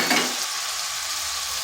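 Washed red lentils tipped into sizzling fried spice paste in a kadai while making a pumpkin and masoor dal dish, a burst of hiss at the start settling into a steady close sizzle.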